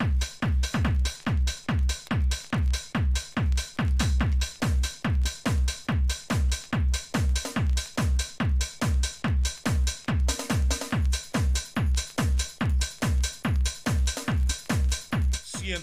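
A recorded dance track plays over the radio, a steady pounding beat of strong regular bass thumps carrying on at full loudness throughout with no talk over it.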